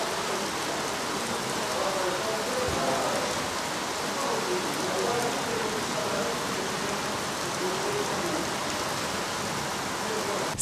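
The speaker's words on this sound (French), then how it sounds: "C'est pendant des bonnes heures que Dame la pluie a arrosé presque tout Lubumbashi" Steady, heavy rain pours over the city of Lubumbashi, a dense unbroken hiss of drops hitting surfaces, loud and continuous throughout with no voices.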